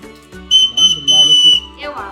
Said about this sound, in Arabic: صفر لنا بقى، ادينا واحدة